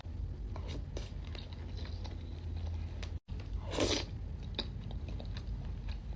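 Someone chewing chewy boci, the tapioca dumplings from bakso aci, close to the mic: soft, moist bites and squishy chewing over a constant noisy background, with no talking.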